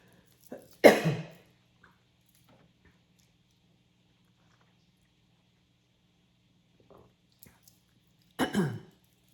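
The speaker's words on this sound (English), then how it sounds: "as I am doing now, by clearing my throat" Two sharp, close throat clearings stand apart in near silence, one early and one near the end, with a faint soft sound between them.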